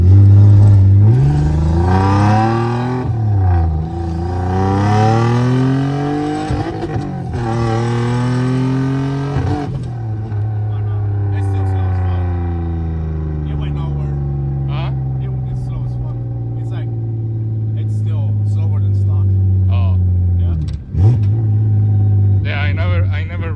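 A turbocharged VQ35 engine on a dyno runs through rising revs, the pitch climbing and dropping across several pulls with a deep, loud drone and rumble, then a sharp dip and a return to revving near the end.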